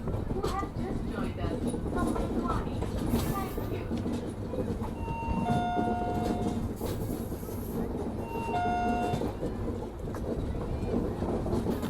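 The Kathgodam Shatabdi Express runs on rails near Haldwani, giving a steady rumble and clatter of wheels with a few sharp high squeals as it takes a tight curve, while someone talks over it.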